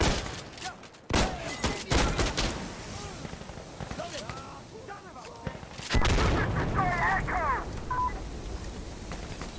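Shotgun blasts in the tactical shooter game Insurgency Sandstorm, loud sharp reports landing irregularly amid other gunfire, with beeping tones and a busy game mix behind them.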